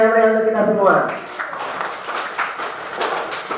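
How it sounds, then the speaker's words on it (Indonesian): A classroom of schoolchildren breaks into applause right after a short sung or chanted phrase, then scattered clapping and chatter continue close by at moderate loudness. "beri tepuk tangan yang meriah untuk kita semua"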